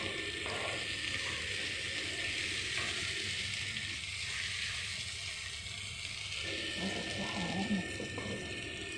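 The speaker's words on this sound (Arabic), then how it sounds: "بنقلب بس البصلة تقلبتين، مش عايزين تحمير" Onion briefly stirred in a frying pan over a steady low hiss of cooking, faint and somewhat distant, with muffled background noise and occasional soft clinks.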